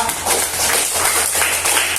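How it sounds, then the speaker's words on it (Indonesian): A group applauds with steady, dense clapping that carries on for the whole moment without a break. "tepuk tangan untuk kelompok kedua"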